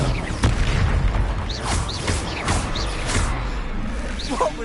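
A Confringo fire spell bursts during a Hogwarts Legacy battle: loud, booming blasts and whooshing impacts crowd together over a dense, continuous rumble of combat effects.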